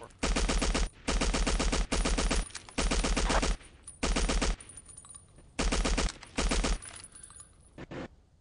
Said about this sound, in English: The landing craft that I was shooting at there just now sunk